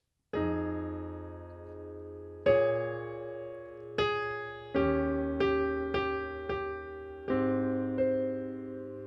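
Piano plays a sequence of rich two-hand jazz chords, struck one after another with ringing sustain, some in quicker succession, no talking.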